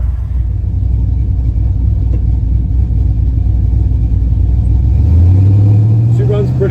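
A car engine rumbles steadily while driving, loud and close, with a rise in pitch as it revs near the end.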